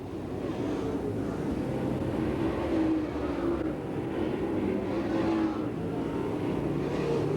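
Dirt-track race cars in a DTWC heat at Pennsboro Speedway roar past in a dense pack, a loud sustained engine drone that swells and fades as they power down the back straight, with no talk.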